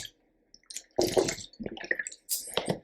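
Water being sipped and swallowed from a drink, a few short wet gulps and slurps with brief pauses between them, close and fairly quiet.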